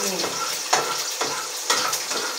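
An egg fries with pancit canton noodles in a pan, giving a steady close sizzle broken by rhythmic scraping strokes of a stirring spatula.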